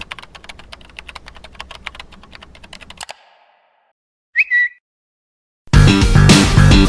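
Fast, irregular keystrokes clatter on a computer keyboard for about three seconds while a resume is typed in a game, then silence, a short electronic blip, and a burst of loud music at the end.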